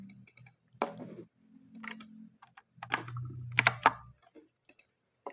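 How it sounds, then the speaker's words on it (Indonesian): Computer keyboard typing while writing simple HTML code: a run of crisp keystroke clicks in short bursts with pauses between, fairly close and moderately loud, with no voices. "Misalnya kita tulis lorem misalnya 50 lalu enter."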